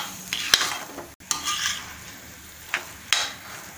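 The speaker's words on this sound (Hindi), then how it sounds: "खोए को इस तरह अच्छे से मिला देना है" Grated carrots cooked with khoa for gajar ka halwa, stirred in a pan with a spoon: a few crisp scraping strokes and clinks over a low sizzle, close and clear, with no voices.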